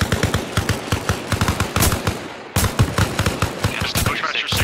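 Sustained automatic gunfire in the Arma Reforger military game, rapid loud bursts of shots in dense rhythmic volleys that continue almost without pause, with faint radio talk underneath.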